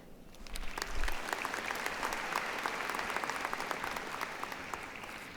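Audience applause fills a graduation ceremony hall, a steady wash of many hands clapping at moderate distance, swelling briefly near the start and then holding evenly throughout with no talk over it.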